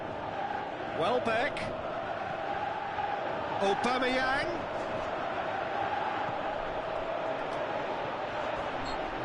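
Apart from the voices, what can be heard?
crowd reacting in a football video game (PES)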